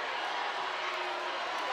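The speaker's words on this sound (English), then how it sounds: "The Wheeler crowd letting Mr. Ref know about it." A high school basketball crowd roars in a steady, dense wall of noise, protesting a referee's foul call in a Georgia gym, loud and continuous throughout.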